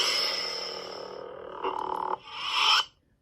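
A Saberforms Neopixel lightsaber cycles through sound fonts: a steady electronic hum, a brief harsh mid-range burst, then a brighter swelling whine that cuts off abruptly, loud and close with no talking.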